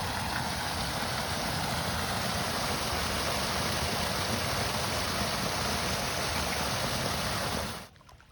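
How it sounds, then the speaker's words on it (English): Spring-fed pool overflowing past a stone retaining wall into a tributary at Black Spring in Bedford, Pennsylvania, a steady broadband rush of running water heard alone and continuously, cutting off abruptly near the end. "You can see the spring-fed pool overflows into the tributary."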